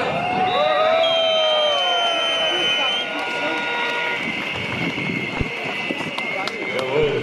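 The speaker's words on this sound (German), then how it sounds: "das, was ihr jetzt gerade gehört habt, diese Stimmung, dieser Beifall, diese Motivation" A demonstration crowd in Görlitz cheers and claps, a steady wash of applause and shouting voices that holds loud throughout, with scattered sharper claps and whistles near the end.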